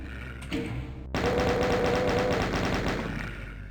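Rapid gunfire from a weapon in the video game Doom, a dense string of sharp shots firing in quick succession over music.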